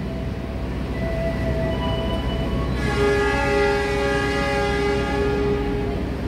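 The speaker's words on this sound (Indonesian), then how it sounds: "Kereta api Lodaya diberangkatkan menuju Solo Balapan." A Lodaya passenger train departs the station, its horn sounding in long steady tones over a constant rumble of moving railcars, loud and close throughout.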